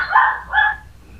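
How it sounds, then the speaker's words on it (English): A small Pomeranian Chihuahua mix gives two quick, sharp yapping barks close by, with quiet room noise after. "He's bad for barking."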